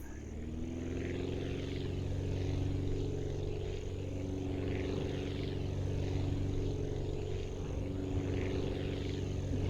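Propeller aircraft engine in the Aviassembly video game throttling up, a steady droning buzz with strong low harmonics that swells slightly in cycles across the whole stretch, loud and close with no voices.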